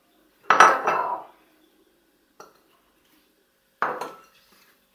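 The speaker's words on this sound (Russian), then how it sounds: "Берем миску и это будем все смешивать. Смешиваем муку, сахар и какао." Flour, sugar and cocoa are mixed in a bowl for a microwave cake, giving a few short bursts of utensil scraping and clinking against the bowl, separated by quiet pauses.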